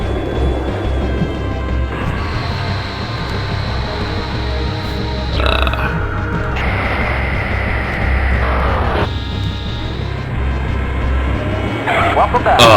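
Fighter jet coming in for a rough landing in the flight-combat video game Fighters Anthology: a loud, continuous engine drone and low rumble that shifts in pitch, with a brief burst of louder noise near the end.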